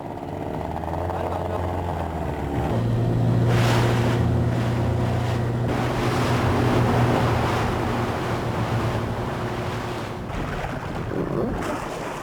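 The engine of a rubber boat runs at speed on the open sea off a coastline, a loud droning hum that rises in pitch, under heavy wind buffeting, crashing spray and rushing water throughout.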